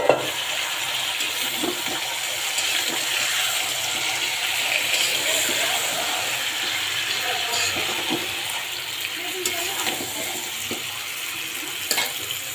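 Meat mixture added to lightly fried potatoes sizzles in a pan, a continuous loud frying hiss with occasional stirring clicks and bumps, no voices.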